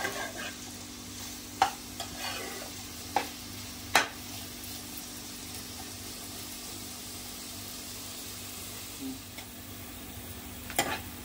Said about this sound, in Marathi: मस्त कांदा असं शिजवून घ्यायचंय मऊ. ट्रान्सपरंट होऊन देऊ द्या